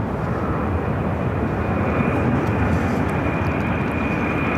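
Steady, loud broadband roar of an American Airlines airplane at Phoenix airport, a continuous jet rumble holding level throughout with no pauses.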